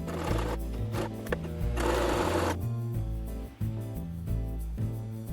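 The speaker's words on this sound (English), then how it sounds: "Then I sewed that side shut, making it a completed cover" A sewing machine stitches a messenger-bag-style fabric cover for a bullet journal, running in a loud, steady whirring burst with brief pauses, over background music.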